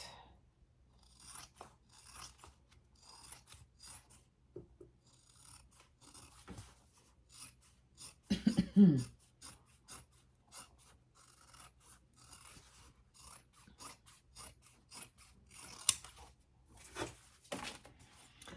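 Scissors snip and trim the fabric of a small sewn mini backpack, with repeated short crisp cuts across the stretch, faint and close, including a louder burst of cutting in the middle.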